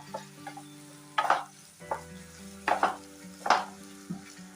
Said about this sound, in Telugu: ఇప్పుడు సిమ్లో పెట్టేసి మొత్తం మనం వేసిన ఆయిల్ అంతా కూడా బయటికి తేలి వచ్చే వరకు సిమ్లోనే చక్కగా ఫ్రై చేసేసుకోండి